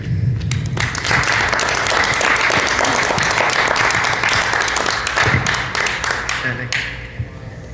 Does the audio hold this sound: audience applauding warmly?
yes